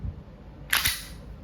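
A WE Airsoft Glock 17 Gen 5 pistol fires a single sharp, crisp snap with a brief mechanical clack, standing out against a quiet background.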